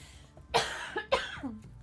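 Two or three harsh coughs in quick succession, close and fairly loud, followed by a brief throat sound.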